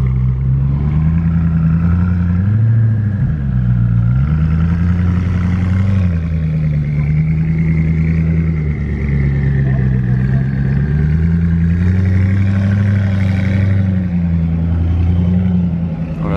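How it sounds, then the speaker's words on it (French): A Koenigsegg Agera and a Bugatti Chiron hypercar climb a small hill at a hypercar event, their engines droning in a low, fairly loud hum that rises and falls in pitch over sustained running. "Ça c'est la version ultime de la Agera, vraiment ultime, et derrière on a la version ultime de la Chiron."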